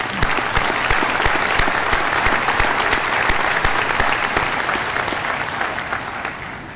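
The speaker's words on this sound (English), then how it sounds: "Please, a round of applause for our faculty and staff" Steady, loud applause from a large crowd at a university commencement ceremony, sustained clapping that fades slightly at the end.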